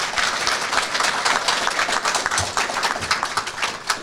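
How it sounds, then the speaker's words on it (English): Audience applause at a Titan Express dual signing ceremony, a dense steady clatter of many hands clapping together for the full stretch with no talk over it. "let's give a big round of applause for them"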